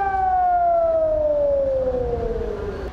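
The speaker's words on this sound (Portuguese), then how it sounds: "9 horas da manhã, a sirene de uma empresa instalada no Pontal da Barra toca." A company's civil defense siren in Pontal da Barra wails during an emergency drill, a loud steady tone slowly falling in pitch and sounding alone, with no voices.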